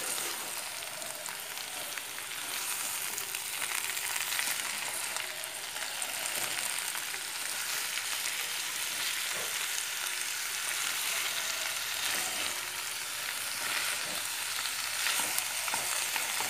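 Jackfruit curry frying in a pan, a steady soft sizzle with light scraping of a spoon stirring throughout, fairly quiet and continuous with no talking.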